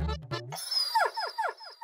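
A voice imitates a dog with about five short, rising-and-falling yelping barks in a quick even rhythm, following a brief stretch of low talk at the start.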